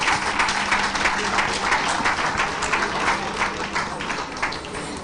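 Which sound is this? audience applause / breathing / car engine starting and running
audience applause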